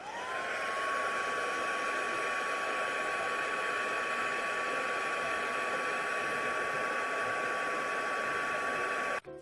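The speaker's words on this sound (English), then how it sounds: "So I'm just going to put it on the first setting just to dry the ink real quick." A Stampin' Up! heat tool runs on its low setting to dry ink on a handmade card, a steady, close, continuous blowing whir with a faint high whine that holds for about nine seconds and then cuts off abruptly.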